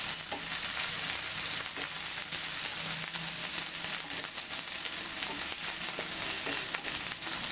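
Onion paste sautéing in a hot pan while chicken roast is prepared, a steady close sizzle and crackle of frying with occasional stirring scrapes, continuous and fairly loud.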